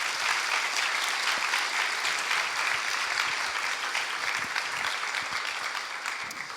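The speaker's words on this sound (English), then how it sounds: "Let's give him a round of applause" Audience applause fills the room, a steady dense wash of clapping from a crowd that holds strong throughout and only begins to thin slightly at the end.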